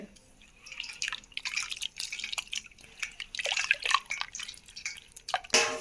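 Tamarind pulp squeezed by hand in a bowl of water for an Andhra egg curry, giving close wet squelches, drips and sloshing in an irregular rhythm, with no talking.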